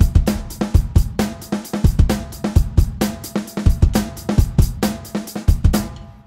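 A drum kit plays the Amen Break groove at full tempo, with steady kick and snare hits under a constant bright cymbal wash, close and loud for about six seconds before stopping.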